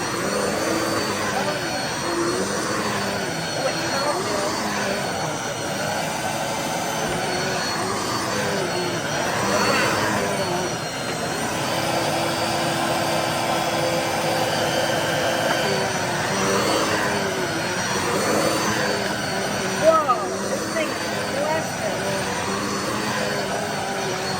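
A Dirt Devil Multisurface vacuum cleaner running on carpet, a steady whining motor drone that continues for the whole stretch with small shifts in pitch as it is pushed, close and fairly loud.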